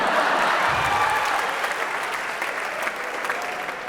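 A stand-up comedy crowd applauds, a steady wash of clapping from many hands that fades slightly over about four seconds, with no speech over it.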